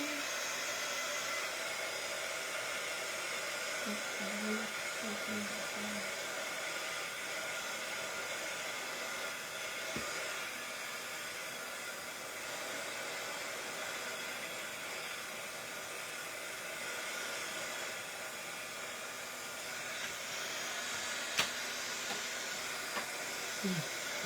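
A hair dryer blows on wet paint with a steady, even hiss and whir for over twenty seconds, moderately loud and unbroken, with a faint click near the end.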